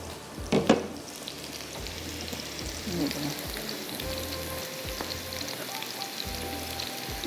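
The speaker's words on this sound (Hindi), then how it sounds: "यहाँ पर अदरक को हम फ्राई करके रख लेते हैं।" Ginger frying in hot oil in a wok, a steady close sizzle and crackle running throughout, opening with a sharp clatter and punctuated by occasional stirring scrapes and low bumps.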